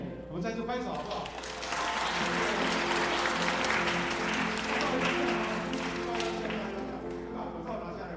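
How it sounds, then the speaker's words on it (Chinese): A church congregation at a Sunday worship service claps together in a sustained, even round of applause, with sung or spoken voices and tonal sound carrying through underneath. "我们再次拍手好不好？"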